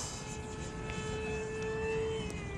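An electric ducted fan Mirage 2000 model jet whines steadily at Aseana, a constant high-pitched tonal hum with a rising tone over a broad airy rush, close and continuous throughout.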